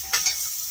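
Food sizzles on a grill at a cherry-blossom camping outing, a steady bright hiss with a couple of brief crackling bursts, close and fairly loud.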